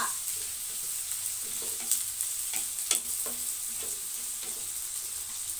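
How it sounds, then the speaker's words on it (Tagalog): Ginger sautés in hot oil with a constant bright sizzle, nearby and fairly loud, broken by occasional stirring scrapes and spatters. "Mainit na po yung mantika. Unahin po nating paggisa yung luya."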